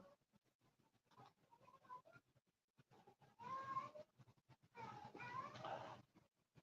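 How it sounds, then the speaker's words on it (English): A cat meows somewhere in the background, fairly faint, with a couple of longer cries standing out amid low room noise while someone tastes an Einstok White Ale. "Ignore the cat in the background, by the way."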